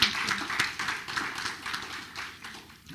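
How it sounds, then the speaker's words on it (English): A round of applause at a township committee meeting: dense, steady clapping from a modest gathering that tapers off over a few seconds. "I think a big round of applause for this group."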